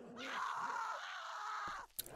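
A woman lets out one long, sustained, shrill scream in The Walking Dead Telltale video game, steady for nearly two seconds before cutting off, followed by a brief sharp noise.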